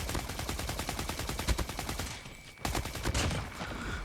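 A video game weapon with a slower fire rate fires in rapid, regular shots that form a loud, steady stream, break off briefly, then start again, with no voice over them.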